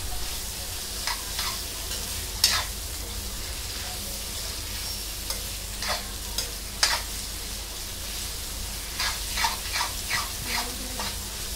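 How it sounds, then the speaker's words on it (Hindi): Capsicum and onion fry in a pan with a steady sizzle, broken by frequent spatula scrapes and taps that come in quick runs toward the end; close up, no speech, with a faint dog bark in the background. "2-3 सेकंड तक हम लोग पकाएंगे कैप्सिकम को भी ऑनियन के साथ"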